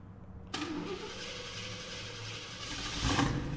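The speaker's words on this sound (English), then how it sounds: "so I'm gonna have Tom start it up here for us so we can experience startup" A 1968 Ford Mustang GT engine cranks and catches abruptly, then settles into a steady, full-bodied running rumble that swells slightly near the end.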